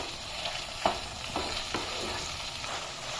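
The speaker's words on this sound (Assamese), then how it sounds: "বটি থোৱা আদাখিনি দি দিলো অলপ লাৰি দিম" Ground ginger being stirred into bottle gourd frying in a pan for a traditional Assamese fish dish: a constant oily sizzle with a few sharp spatula scrapes, close and unvoiced.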